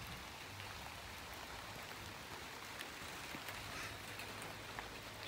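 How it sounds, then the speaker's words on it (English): Heavy rain pours outside the derelict Denbigh Asylum, a faint, steady hiss of drops striking surfaces with scattered brighter splashes, continuous throughout and with no talking. "Shame it's raining really hard now."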